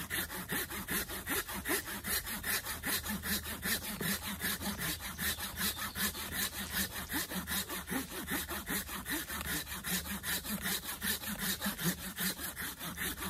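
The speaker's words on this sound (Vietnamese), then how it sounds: "Một cái dòng cưa của Nhật nhé" A Japanese SGK hand saw cuts through a thick trunk of wood with continuous rhythmic rasping strokes, close and steady throughout, no voices.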